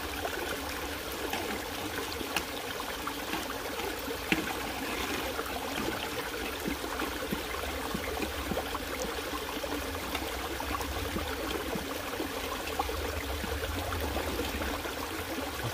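Creek water flows steadily during a spell of outdoor gold prospecting, a continuous close rushing and trickling wash that holds even and unbroken throughout, with no voices.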